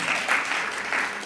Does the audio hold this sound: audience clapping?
yes